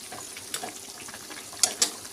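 Rohu fish curry with drumstick and potato simmering in a pot, giving a soft steady bubbling sizzle with a few faint clinks.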